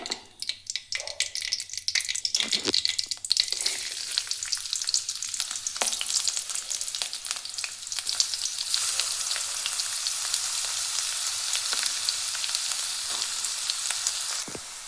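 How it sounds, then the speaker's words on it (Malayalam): Ginger and garlic hit hot coconut oil with a loud sizzle that swells after a few seconds into a steady, close frying hiss, broken by occasional crackles and stirring scrapes. "വെളിച്ചെണ്ണ ചൂടായി വന്ന ശേഷം നമുക്കതിലേക്ക് ആദ്യം ഇഞ്ചിയും വെളുത്തുള്ളി ഇട്ട് കൊടുക്കാം"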